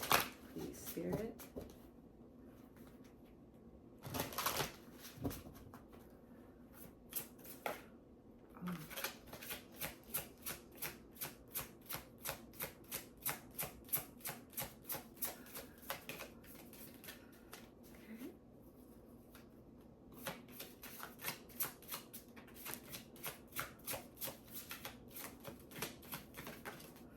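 A Yule oracle deck from Seasons of the Witch is shuffled and cards are pulled, producing long runs of rapid crisp riffling clicks in bursts, close and fairly soft.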